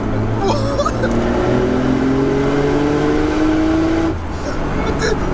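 A Nissan 200SX with a swapped-in GT-R engine making about 530 bhp accelerates hard, its engine note climbing steadily in pitch for about four seconds before easing off, loud and close, with occupants' voices intermittently over it.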